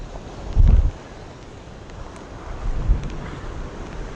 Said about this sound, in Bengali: প্রচণ্ড একটা ঝোড়ো হাওয়া